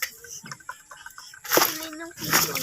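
A Rhode Island Red hen clucks in short, close bursts, with a louder squawking flurry midway and again near the end, while a person talks over it.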